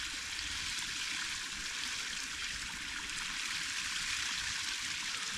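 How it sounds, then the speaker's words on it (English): A snowy creek flows steadily beside a campfire camp, a continuous broad rush of water with no breaks, fairly close and alone. "You listen to the creek."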